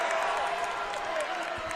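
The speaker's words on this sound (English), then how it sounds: "the Indiana crowd starts to get into this" Crowd cheering in an Indiana basketball arena during a college game against South Carolina, a broad sustained roar of many voices, steady and moderately loud.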